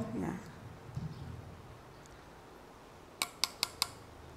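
A glass coffee cup struck with a metal spoon gives four bright, ringing clinks in quick succession near the end, clear and close, following a stretch of quiet room tone with soft voice fragments at the start.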